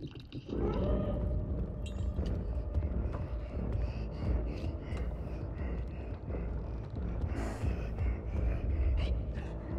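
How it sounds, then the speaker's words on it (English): Heavy, labored breathing of a large character in the Little Nightmares video game, a continuous deep rasping rumble with gasping pulses, close and fairly loud, with no talk over it. "He's breathing really hard."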